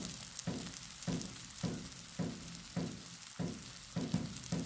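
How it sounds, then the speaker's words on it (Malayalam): Steady, close sizzling of fish frying in a pan, with a soft rhythmic pulse running through the hiss. No voices. "അങ്ങനെ മീൻ അടുപ്പത്തായി, മീൻ വറുത്തോണ്ടിരിക്കുകയാണ്"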